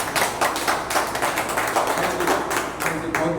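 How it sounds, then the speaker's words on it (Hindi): An audience at a program applauding loudly, with uneven bursts of clapping rising and falling close by, individual claps audible within the crowd sound. "तो चाहूँगा कि आप आज अपने लिए एक बार जोरदार ताली बजाएं।"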